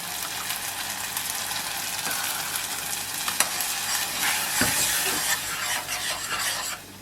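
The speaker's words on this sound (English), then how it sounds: "I'll add a little more broth, and then I will add the first set of crushed grapes." Risotto with crushed grapes bubbles in the pan as broth is ladled in and stirred, a loud close wash of sizzling and scraping with a few sharper knocks of the spoon.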